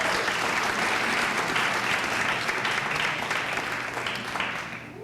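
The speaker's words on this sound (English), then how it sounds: "Let's give another round of applause." An audience at a 1998 graduation for a school program's graduates gives a sustained, full round of applause, thick and even throughout and tapering slightly toward the end, with no speech.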